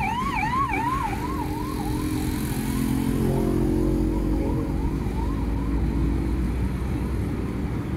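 An ambulance siren wails in a fast rising-and-falling pattern on a road, heard from inside a moving car under steady road and engine rumble, and it fades after the first couple of seconds into continuous traffic noise.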